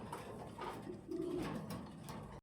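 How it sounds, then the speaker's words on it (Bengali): King Lahori pigeons coo softly in low, rolling phrases, with a fuller swell midway, close by and without voices. "এই দেখেন ফুল বেডিংয়ে কবুতর"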